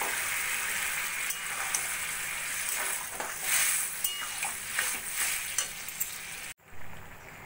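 Boiled toor dal and water go into a cooking pot of sambar over steady sizzling and frying. Stirring and splashing come through, then a sharp break and a quieter simmer.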